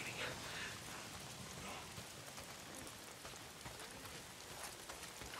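Quiet, continuous rain falls in the Days Gone game world, a soft, dense patter of drops striking surfaces with no pauses and no one talking.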